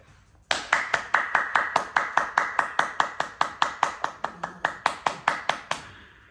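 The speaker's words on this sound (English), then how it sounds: "breathe in, rub your hands, and breathe out, clap" A single person claps hands in a steady, evenly spaced rhythm during a yoga breathing exercise, more than twenty crisp, close claps in a row with no voices.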